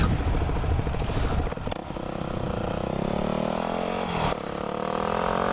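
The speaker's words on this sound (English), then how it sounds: "let's go down this street and pop some more wheelies" Supermoto motorcycle ridden down a street while popping wheelies, its engine droning steadily with rising and falling revs and two sharp throttle blips, loud and close with no talk.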